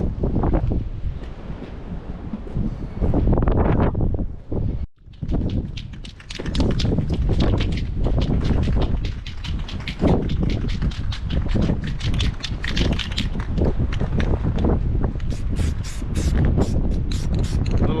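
Strong gusty wind buffets the microphone in a continuous roaring rush, with brief dips and surges throughout.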